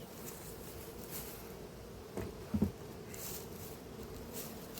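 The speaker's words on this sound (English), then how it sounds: "And there's a lot of bees in here." Honey bees in an open apiary hive give a steady, moderate buzz throughout, with a couple of brief knocks and handling sounds partway through.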